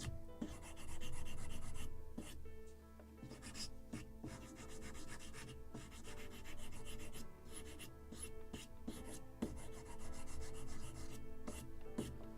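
Sandpaper rubs steadily over a small wooden knee piece for a model of the 1776 gunboat Philadelphia, close, rhythmic rasping strokes with brief pauses, no voices.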